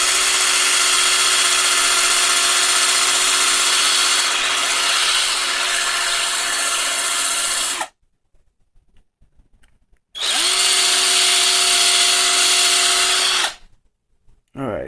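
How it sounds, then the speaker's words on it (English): A small power drill whirs steadily while drilling into a Gundam Zaku model leg, two sustained close bursts separated by a short pause, with a brief restart at the very end. "I need to drill a little bit more right here, and I'll be testing the leg"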